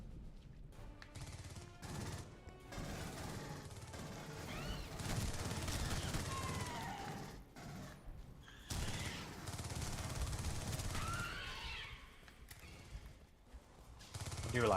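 SMG fire in the game Aliens: Colonial Marines rattles almost continuously at moderate volume, blending with creature shrieks and other game noise, while voices talk intermittently.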